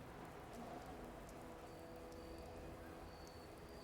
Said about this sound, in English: Oh, it's raining here too.